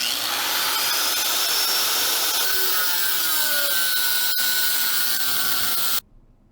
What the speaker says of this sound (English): I'm going to cut off all that smaller diameter pipe that's been welded onto the muffler